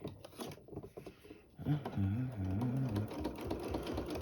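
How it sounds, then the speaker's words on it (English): A sewing machine runs a straight stitch in red thread, a soft rapid mechanical chatter under light rubbing and handling noises, fairly quiet and close. "I'm just going to do a straight stitch"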